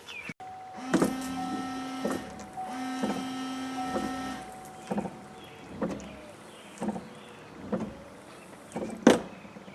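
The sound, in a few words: Chevrolet Suburban rear washer and wiper motor running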